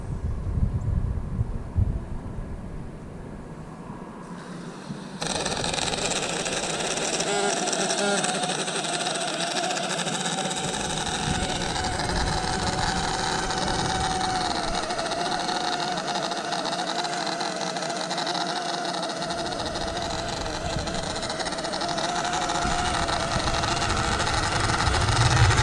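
Wingsland S6 drone motors spin up for takeoff, a sudden loud, steady high-pitched whine with wind buffeting that holds constant for about twenty seconds after a quieter start.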